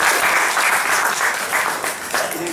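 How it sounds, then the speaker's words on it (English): An audience at a talk on modelling uncertainty claps in a dense, steady round of applause that fades slightly toward the end. "Can you just give a round of applause?"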